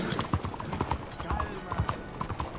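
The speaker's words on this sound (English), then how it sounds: "Oh, I've got a temporary horse following me." Horse hooves clip-clop at a steady walking rhythm in the video game Red Dead Redemption 2, close and moderately loud with faint background ambience.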